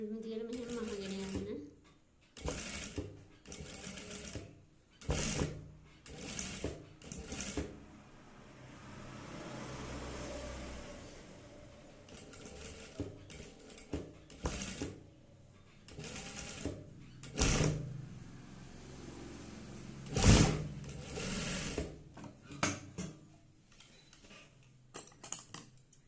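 A sewing machine stitches fabric in short repeated bursts that start and stop, close and fairly loud, while someone talks between and over the runs.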